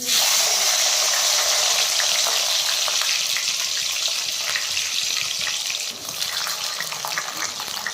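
Green (unripe) tomatoes fry in a pan with a steady, soft sizzle and hiss that holds close and even throughout, with faint clinks now and then.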